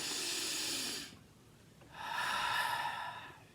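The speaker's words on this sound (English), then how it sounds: "Inhale, exhale, repeat." Slow, deep breathing close to the mic: a long airy inhale, a pause, then a long breathy exhale, loud and alone without speech.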